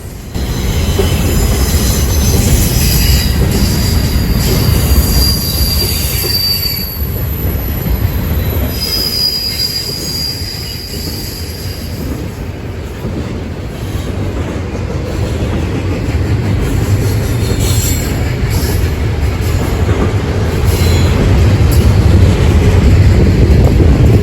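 A Union Pacific westbound intermodal freight train led by GE AC6000CW locomotive UP 6904 rolls past close by at a rail crossing in Rochelle, Illinois, with loud continuous wheel rumble, shrill wheel squeal and clattering over the rails, plus wind buffeting the microphone.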